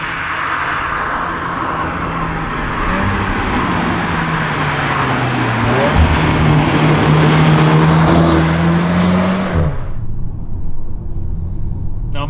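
A VW Arteon R Shooting Brake engine revs hard and climbs in pitch through the gears, loud and close, then the power cuts off abruptly near the end.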